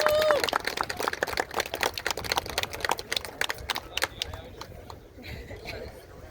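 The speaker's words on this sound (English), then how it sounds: "So she deserves a real big round of applause." An audience at a Highland Games show breaks into a dense burst of clapping that thins out and fades after a few seconds, with voices mixed in.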